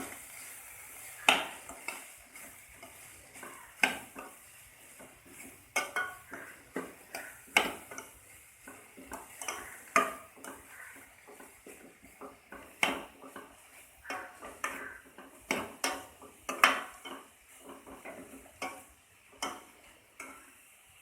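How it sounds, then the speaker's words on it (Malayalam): A spoon stirs beetroot fry with chopped green chillies and curry leaves in a pan, giving repeated sharp clinks and scrapes against the metal at an irregular pace over soft sizzling. "എല്ലാം കൂടി നമുക്കൊന്ന് മിക്സ് ചെയ്ത് കൊടുക്കാം"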